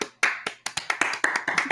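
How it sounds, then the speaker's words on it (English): A person claps their hands about ten times close by, in sharp, uneven bursts that speed up toward the end. "we're just clapping in his face. That's a clap."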